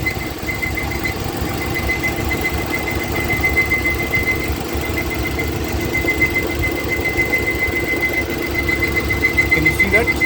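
A Nissan Micra engine with an irregularly moving fan makes a steady, even mechanical whir and hum that runs evenly from start to finish at close range, with no talking over it.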